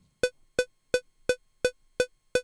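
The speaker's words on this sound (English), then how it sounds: "So we are going to use a click track." Drum-practice click track: seven sharp, evenly spaced metronome clicks, each a crisp bright tick with a short ring, played alone at a steady brisk tempo.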